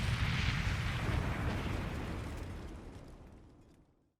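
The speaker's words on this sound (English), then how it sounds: "I saw a grenade hurtling toward me, getting closer and closer and closer and closer. Kablooey." Grenade explosion in the video game The Hundred Line: Last Defense Academy, a loud, dense roaring blast that starts at full force and rumbles away over about four seconds into silence.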